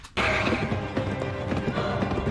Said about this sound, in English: Look at the horse riding